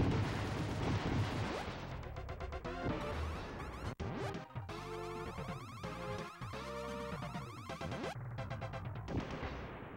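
Cannons fire repeatedly in the side-scrolling mech shooter Assault Suits Valken, loud, crunchy blasts and explosions layered over busy game music and gunfire in a continuous barrage.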